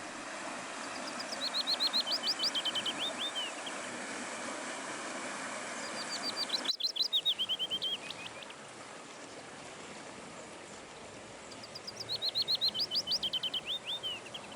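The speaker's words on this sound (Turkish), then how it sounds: "Söğüt bülbülleri, ağaç kakanlar ve diğerleri. Hepsinin sesini duyuyoruz" Birdsong from willow warblers, woodpeckers and other birds beside a stream: three bursts of high, rapid trilling phrases, moderately near, over a steady wash of flowing water.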